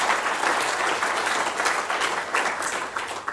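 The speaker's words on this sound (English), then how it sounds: "Please give everybody a round of applause." Audience applause at a policy forum, a dense, steady wash of clapping from many hands filling the whole stretch without a break.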